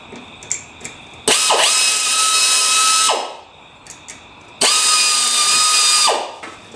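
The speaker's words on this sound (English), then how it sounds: "Push it against the edge there, hold it there and drill." Power drill boring holes during a Ford ZF Fairlane restoration, two long loud whining runs of about two seconds each with a steady pitch, close up, separated by a quiet pause with faint clicks.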